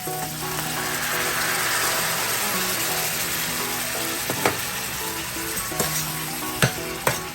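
Soaked tamarind goes into a pan of sizzling jalapeno chutney, keeping a loud steady frying hiss going, and a few sharp spoon knocks and scrapes come near the end.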